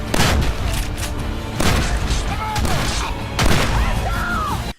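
Shotgun fire during a zombie herd attack in The Walking Dead TV show, heavy booming blasts arriving in a few bursts over loud, dense noise with background commotion.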